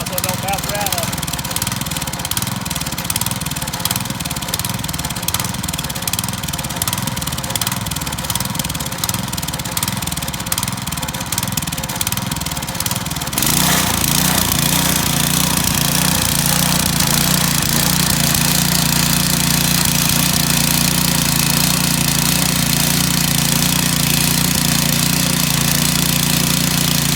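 A garden tiller engine churning soil for a fall garden runs loud and close throughout, with a rhythmic, pulsing chug that shifts to a harder, steadier drone about halfway through.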